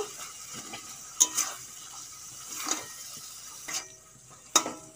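Cut, washed brinjal pieces fry with spice masala in a pan, a quiet sizzle broken by occasional scraping stirs and light clinks of a spoon against the pan.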